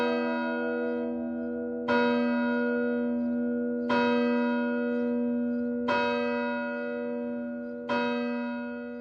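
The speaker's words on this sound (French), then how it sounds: "L'écho des cloches rebondissait sur les pavés des rues désertes." Church bells strike midnight, five loud, evenly spaced peals about two seconds apart, each ringing on with a long, rich decay over a deserted cobbled street.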